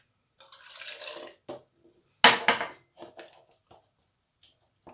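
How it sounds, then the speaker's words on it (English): Hot water splashes and swishes in short bursts into a homemade rose moisturiser mixture, with a louder pour or stir in the middle and light clinks and scrapes of a knife mixing after, close by. "I'm going to add our water in really quickly and give it a good mix around"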